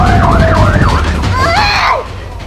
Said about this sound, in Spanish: Con sirena abierta se abren paso entre la vida y la muerte.